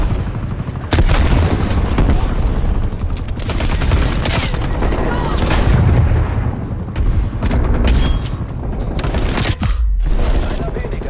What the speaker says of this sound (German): Granate! Werfe Granate!